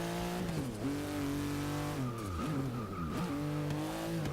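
A 1998 Subaru Impreza 22B STi in Forza 6 accelerating hard through repeated gear changes, engine pitch climbing and dropping with each shift, with tire squeal, loud and continuous with no talk.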